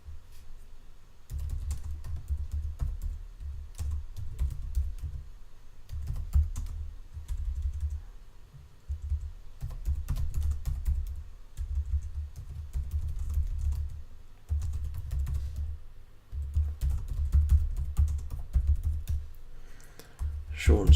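A computer keyboard clatters as a product description is typed, with steady bursts of close, soft keystrokes separated by short pauses throughout.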